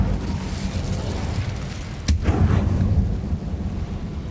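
A fire spell cast in Hogwarts Legacy, heard as one sudden whooshing burst that flares up briefly over a steady low ambient rumble and fades within about a second.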